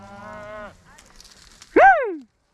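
Cattle mooing while being gathered in steep country, two calls: a long low moo, then a louder, shorter rising-and-falling bellow close by, with someone talking faintly between them.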